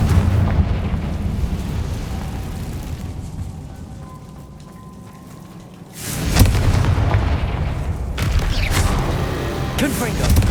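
The Confringo explosive spell in the Hogwarts Legacy video game lands as a loud booming blast midway, following a quieter rumbling stretch, with further crackling impacts after it.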